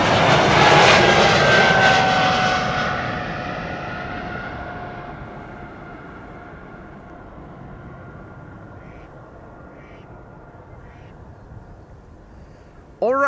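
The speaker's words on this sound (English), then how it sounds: "time for KLM flight 639 to leave to San Diego" KLM passenger jet on its takeoff roll from the Polderbaan runway at Amsterdam Schiphol, a loud roaring engine rumble with a descending whine that gradually fades into the distance.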